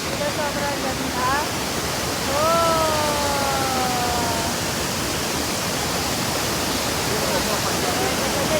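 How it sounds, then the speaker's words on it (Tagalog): A famous waterfall in Taiwan pours with a dense, steady roar of falling water that fills the whole scene, while faint voices and brief whistling tones sit underneath. "Guys, ito na yung falls. Yung famous falls."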